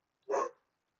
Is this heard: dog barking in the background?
yes